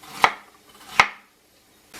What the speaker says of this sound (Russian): Быстренько режу лук мелким кубиком.